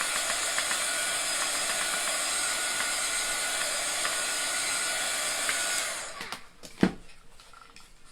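A hair dryer blows a steady loud hiss over a painted Chalk Couture box frame for about six seconds, then cuts off, followed by a brief knock or handling thud.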